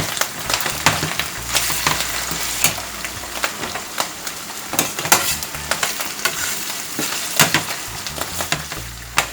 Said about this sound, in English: More oil. Stir this up.